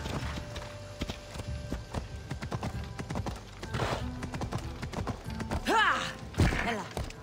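Horse hooves gallop in a steady clip-clop rhythm in the video game Assassin's Creed Odyssey, close and fairly loud, with a short neigh-like whinny and a few thuds toward the end.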